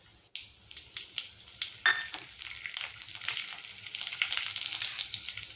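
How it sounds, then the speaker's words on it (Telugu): Mustard seeds, cumin and dry red chillies hit hot oil for a tempering, crackling and sizzling up close in sharp popping bursts over a steady fry. "ఆయిల్ కాగింది కదా, ఒక స్పూను ఆవాలు, 1 స్పూన్ జీలకర్ర, ఎండుమిర్చి వేసేసుకుందాం."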